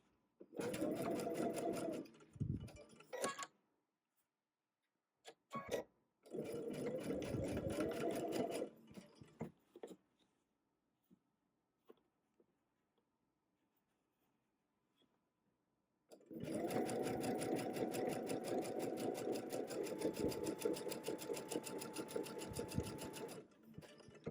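A sewing machine stitches quilt pieces together for a log cabin block in a butterfly quilt, running in several steady, close bursts separated by quiet pauses, with one long final run at the end.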